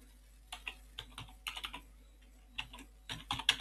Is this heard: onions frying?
no